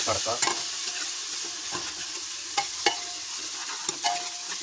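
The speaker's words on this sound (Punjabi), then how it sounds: "ਟਮਾਟਰਾਂ ਦਾ ਤੜਕਾ ਤੇ ਅੰਗ ਅੰਗ ਭੜਕਾ" Chopped onions and tomatoes frying for a tadka in a pan, a steady close sizzle with scraping stir strokes and a few sharp clicks from the spoon, with no voices.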